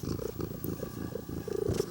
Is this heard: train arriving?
no